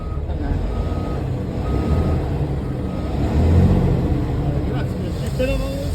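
A truck backs out of deep mud, its reversing alarm beeping steadily over a rumbling engine and the grind of churning wheels, with a low rise in power partway through.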